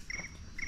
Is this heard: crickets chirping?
yes